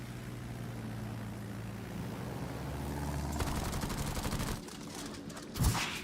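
Rocket salvo in World of Warships striking an enemy Jaeger ship, a steady roar of rapid crackling launches and impacts layered over engine drone, building through the middle and ending with a heavier burst.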